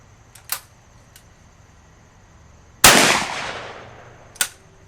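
Stevens Model 301 .410 break-action single-shot shotgun firing a 2.5-inch Remington shell, one sharp loud report with a decaying tail, preceded by small mechanical clicks and followed by another short click.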